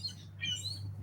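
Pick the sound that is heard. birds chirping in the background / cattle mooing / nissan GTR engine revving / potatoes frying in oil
birds chirping in the background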